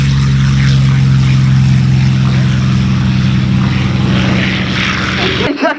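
A P-40 Warhawk fighter with an Allison engine flies at an air show, its propeller drone loud and steady with a strong low hum. The drone slowly shifts as the plane passes, then cuts off abruptly at the end.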